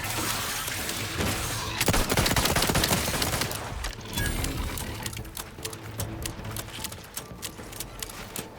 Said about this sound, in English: Shoot in the thin air.